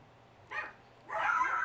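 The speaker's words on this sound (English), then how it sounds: "Apologies for the barking dog." A dog barks nearby indoors: one short bark, then a longer, louder yelping bark a moment later.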